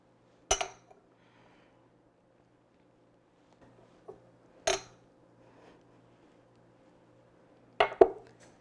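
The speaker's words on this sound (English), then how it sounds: "Mix all the spices in the puree." Spices being mixed into pumpkin puree in a bowl for pumpkin pie, heard as a few sharp utensil clinks against the bowl spaced several seconds apart, with near silence between them.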